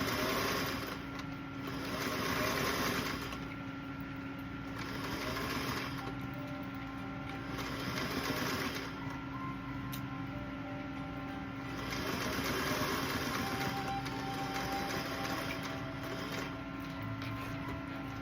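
A sewing machine stitches fabric with a steady mechanical whir and rapid needle ticking, swelling and easing in several runs as the seam goes on, with no talking.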